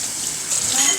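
Warm water runs steadily from a tap into a kitchen sink, a continuous close hiss and splash with no voices.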